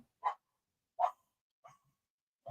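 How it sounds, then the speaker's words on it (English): A dog barks indoors in the background, four short separate barks spaced about a second apart, moderately faint, with no talk over them. "my dog is barking"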